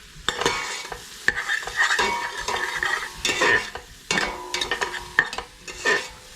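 Vegetables for rice pilaf sweat in a hot pan while a stainless steel spoon stirs them, giving repeated close scrapes and clatter over a crackling sizzle, loud and uneven, with no speech.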